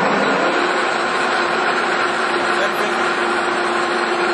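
Monarch 21x72 engine lathe, an 8,000-pound machine, running at 750 RPM, giving a steady, continuous mechanical hum and whir at close range with no pauses or talk over it.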